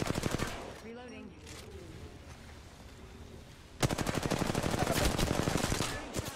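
Rapid enemy gunfire in the Apex Legends battle royale game: a loud burst of automatic shots, a quieter stretch with a brief voice and game sounds, then another sustained, dense volley of rapid-fire rounds.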